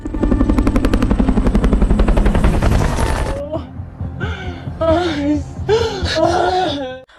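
Helicopter from the zombie series All of Us Are Dead: a loud, dense rotor rumble with rapid rhythmic chopping for about three seconds, cutting off abruptly to voices and dramatic film sound.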